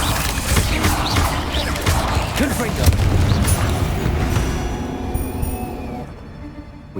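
In the video game Hogwarts Legacy, a Confringo spell goes off during a fight as a series of loud booming blasts and crashes, one after another, then fades toward quiet, with a voice speaking over the combat.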